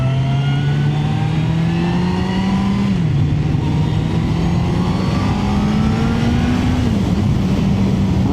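Suzuki GSX-R1000 motorcycle engine accelerating on the road, the pitch climbing steadily, dropping at two gear changes, then climbing again; loud and close with wind noise, no talking.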